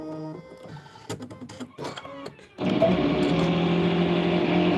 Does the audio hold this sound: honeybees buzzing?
no